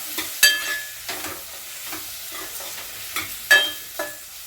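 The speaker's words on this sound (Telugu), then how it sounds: "క్యాప్సికమ్ అయితే నూనె మంచిగా మగ్గుతుందండి" Capsicum cooking in oil in a pan, soft sizzling under a few sharp scraping stirs of a spoon at irregular intervals, close by with no talking.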